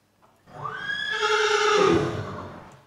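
A single loud horse whinny, rising and then trembling through a vibrating middle before fading into a breathy, noisy end, close and clear.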